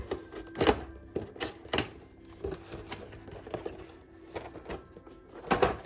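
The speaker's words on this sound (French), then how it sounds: "toujours avec un couteau pour les scotch" Several sharp rasping slices and tearing sounds come at uneven intervals, a knife cutting through packing tape on a figure's box up close.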